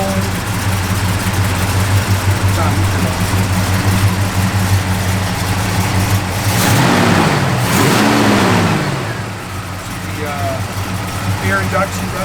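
A 1971 Oldsmobile 442 V8 idles with a heavy, loping rumble and is briefly revved twice in the middle. Someone talks over the engine for much of the time.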